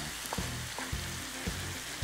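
Cooked broccoli hits a pan of sausage pasta, a loud close sizzle of frying with a few soft stirring knocks in steady, evenly spaced pulses, no voices.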